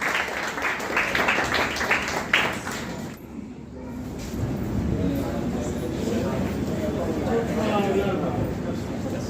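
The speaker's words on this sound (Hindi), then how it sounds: "जोरदार तालियों से उनका स्वागत करें" An audience claps to welcome the national secretary of the Aam Aadmi Party at a gathering in Farrukhnagar, a dense crackling burst of applause that follows a short stretch of announcer speech.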